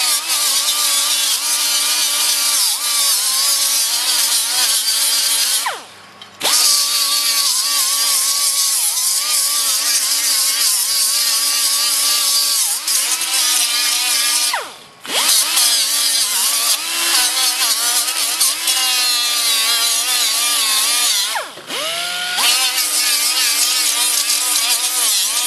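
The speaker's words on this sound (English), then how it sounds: "This die grinder probably hasn't been used since the Bush administration." An old, long-unused die grinder running in long high-pitched whining bursts that waver in pitch, cutting out three times with brief drops before spinning back up, loud and close.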